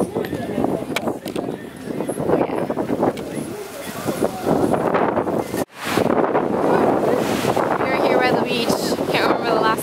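Loud, steady roar of ocean surf on a beach in Tulum, Mexico, mixed with heavy wind buffeting the microphone, continuous apart from one brief dropout midway, with voices talking over it.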